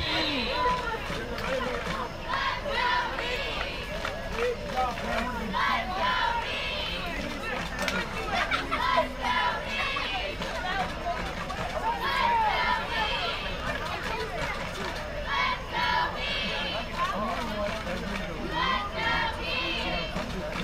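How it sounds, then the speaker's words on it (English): Student section at a high school football game makes a steady roar of crowd noise and cheering, dense and continuous, with voices and babble layered throughout. "Come on, student section, we need you to get in on this cheer."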